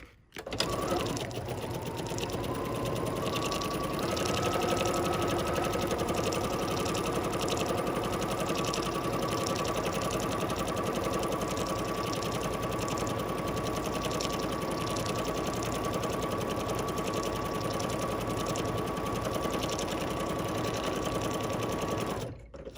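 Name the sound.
embroidery sewing machine stitching a sampler pattern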